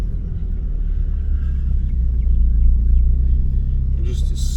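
A Ford Focus ST fitted with a Sidewinder turbo kit and a new wastegate spring drives along. A steady, heavy low engine and road rumble fills the cabin throughout, with only slight swells in level.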